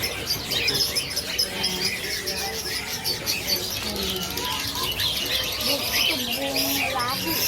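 Pancawarna birds and many others chirp busily at a crowded bird market, a steady layered chatter of high tweets and trills over background commotion and faint voices.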